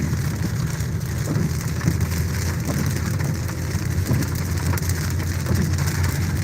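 Heavy rain pours steadily onto a surface around a car, a dense, continuous wash of drops with occasional louder patters and no voices.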